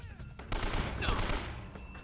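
Video game gunfire from Uncharted: Drake's Fortune, a sustained burst of rapid shots with a whistling ricochet midway, loud and close, fading toward the end.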